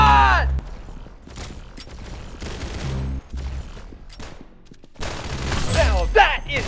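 Rapid bursts of gunfire in the Roblox shooter game Arsenal, loud, punchy volleys separated by short pauses, with a voice speaking over parts of the action.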